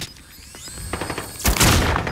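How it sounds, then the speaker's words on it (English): A frag grenade goes off in Call of Duty: Modern Warfare after a stretch of rapid distant gunfire, ending in a loud, close, booming blast. "Throwing frag!"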